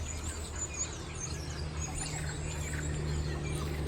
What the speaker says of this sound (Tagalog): Maririnig mo talaga yung mga ibon sa mga puno.